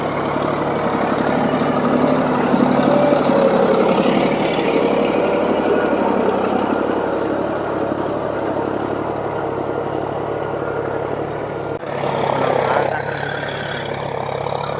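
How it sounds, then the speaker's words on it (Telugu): A new 2025 John Deere 5050 D 4WD tractor engine runs steadily with a loud, continuous diesel drone and a low throb that holds for the whole stretch, with a brief knock near the end. "50-50 4 వీల్ ట్రాక్టర్ ఇక కూత మొదలైంది రో"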